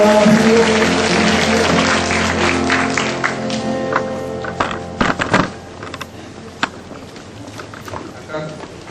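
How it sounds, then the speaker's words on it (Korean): A church congregation applauds during a Vision Sunday worship service, a dense wash of clapping that fills the first few seconds alongside a steady musical tone and voices, then thins into scattered claps as talking continues. "큰 박수로 받아주시면"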